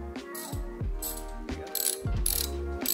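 A ratchet clicks in quick repeated bursts while backing screws out of a van's swivel seat base, the pawl ticking loudly and close up with short pauses between runs of turns.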